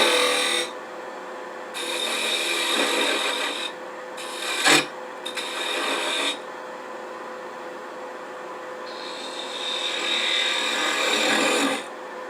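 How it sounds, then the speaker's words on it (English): Sandpaper rasping against a small wooden ornament spinning fast on a woodturning lathe, steady scratchy friction in several bursts with brief pauses and a sharp knock midway. "We'll sand that into submission."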